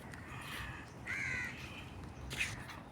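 A crow cawing outside a stadium in Singapore, two harsh calls spaced about a second apart, heard over quiet outdoor background noise at a moderate distance.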